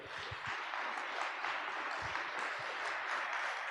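A church congregation claps loudly and steadily for about four seconds, a dense, even wash of many hands heard at a distance with no voices over it.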